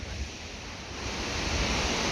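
High, fast-flowing river water rushes through an industrial city, a loud, dense, unbroken roar of churning water close by.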